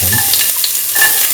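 Shallots fry in a pan of hot cinnamon-infused oil, giving a steady close sizzle with light stirring scrapes throughout.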